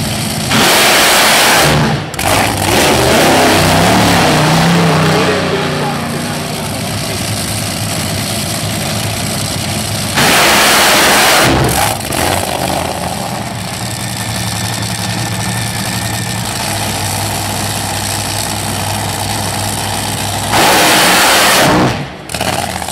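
Top Fuel dragster engines at a nitro drag racing meet roar during qualifying runs, with very loud, sustained blasts and revving that swell and drop between passes, dominating the scene.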